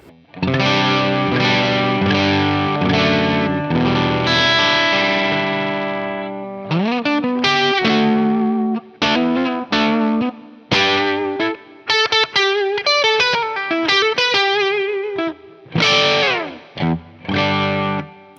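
Distorted fuzz electric guitar on the middle pickup with the volume knob at 8, into a lightly driven amp, playing a melodic run with sustained chords and quick picked notes, thick and saturated, no talking.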